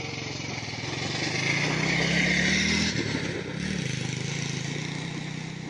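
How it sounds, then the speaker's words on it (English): A motorbike pulls a sled in wartime Russia, its engine running steadily and loud throughout with a rough, buzzing drone that swells slightly and then dips briefly, with faint clatter riding over the motor. "So they have a motorbike and a sled."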